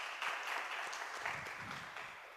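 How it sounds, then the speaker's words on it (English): Applause from a yoga lecture audience, the rapid patter of claps spread through the room, moderately faint and fading slightly toward the end. "claps."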